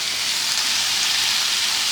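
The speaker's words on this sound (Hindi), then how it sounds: "कीमे को भूनेंगे हम" Minced chicken sizzling in a pan with onion, ginger and garlic, a steady, loud, even hiss of frying that runs unbroken throughout with no voices.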